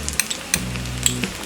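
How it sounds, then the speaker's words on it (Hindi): Potato masala rice fries in a pan on a gas stove, a soft close sizzle broken by a few light scrapes and clinks of a utensil stirring. "गैस ऑन कर लिया है और इसे 2 मिनट तक फ्राई कर लिया है"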